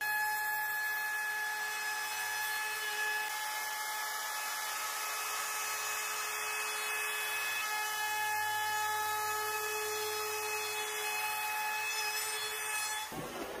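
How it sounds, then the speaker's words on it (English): Router fitted with a 45-degree bearing-guided chamfer bit running along the edge of reclaimed timber, a steady high whine with constant tonal hum, moderately loud and uninterrupted until it stops abruptly at the end. "So I'm going to put a chamfer on the underside, which is going to make it look a little bit sleeker. This is a chamfer bit."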